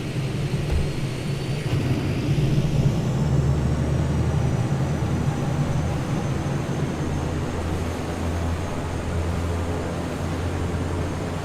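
A Viking Air CL-415 amphibious water bomber roars through its takeoff at Crater Lake, a loud, steady engine drone with a slowly rising whine that holds constant throughout.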